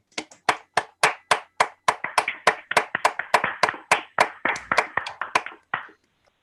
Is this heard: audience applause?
yes